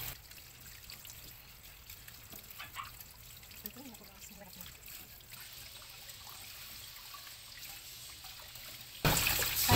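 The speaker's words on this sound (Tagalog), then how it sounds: "Hugasan muna natin and then mamaya ulit hugasan pag na-himay na natin guys." Kangkong (water spinach) rinsed under running water gives a soft, steady trickle and splash at low volume, swelling into a louder rush of water in the final second.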